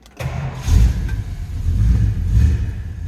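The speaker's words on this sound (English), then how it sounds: "Let's go ahead and start it up so you can hear that 440." A 1967 Plymouth GTX's 440 V8 cranks and catches close up, then settles into a loud, lumpy idle with a couple of swelling revs.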